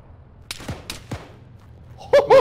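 Several distant gunshots in a military video game crack out one by one with echoing tails, followed at the end by louder, clipped bursts of nearer fire.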